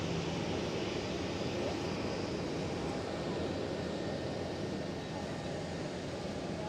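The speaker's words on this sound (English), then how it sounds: "Queen of the Skies, KLM 747." A KLM Boeing 747 airliner at Schiphol Airport in Amsterdam, its engines a steady, broad roar that holds evenly throughout, loud and continuous with no voices over it.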